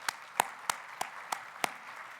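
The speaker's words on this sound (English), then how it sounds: "please join me now in giving them a welcome round of applause." Six sharp, evenly spaced claps ring out alone against a quiet background at a conference opening session, sounding like a few hands clapping slowly rather than a full crowd.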